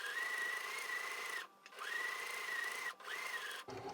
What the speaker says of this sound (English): I'm really simply going to just sew all the way down this one side